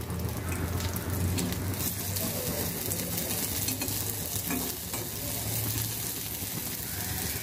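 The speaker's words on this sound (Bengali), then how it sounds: "আমি অল্প তেলে অল্প আঁচ দিয়ে এটা আমি ভেজে নেব।" Potato chops frying in a little oil over low heat make a dense, even crackling sizzle close by, with a faint occasional scrape of stirring throughout.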